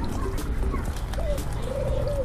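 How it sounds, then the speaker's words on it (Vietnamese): A collared dove cooing in the countryside of Bến Tre, a few soft, low, rounded coos repeating at a moderate distance over a faint background hum. "nghe có tiếng chim cu gái rồi đó"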